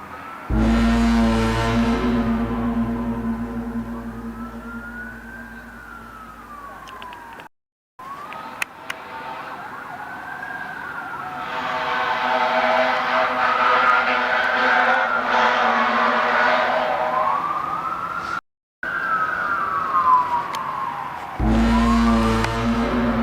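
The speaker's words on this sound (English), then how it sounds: "Police sirens and cop cars could be heard riding all around as panic breaks out in the city." Police car sirens wail through a city, rising and falling in long sweeping cycles that stay loud and continuous, with a couple of brief gaps of silence and a busy low rumble underneath.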